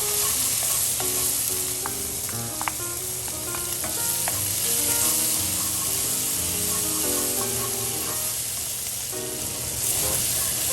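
Red onions and celery sautéing in a pan make a loud, steady, close sizzle that runs unbroken throughout, with stirring noises and faint tonal sounds in the background.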